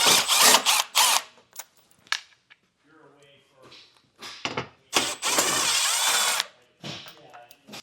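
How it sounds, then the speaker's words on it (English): A power drill removes 8mm screws from a 2025 Jeep, sounding in several loud whirring bursts of a second or so, with quieter gaps of faint clicks and handling between them and one long sustained run. "Now we have 2 8mm screws a little farther back to remove."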